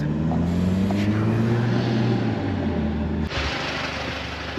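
A modified Alfa Romeo Giulia's engine drones loudly up close, its tone sliding gradually in pitch before a sudden shift near the end, heard alone without voices.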